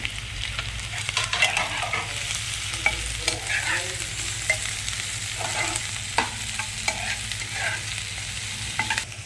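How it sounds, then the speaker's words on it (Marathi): Capsicum sautéing in a pan with onion for soybean chilli, a continuous close frying sizzle broken by repeated spatula stirs and scrapes, no talking. "शिमला मिरची परतून घ्यायची, जास्त नाही परतू द्यायची ती."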